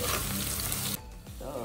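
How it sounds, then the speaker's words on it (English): Onion and chili fry in a pan and are given a stir, a dense sizzle that cuts off abruptly partway and leaves quieter, scraping residual frying. "We're gonna give that a good stir."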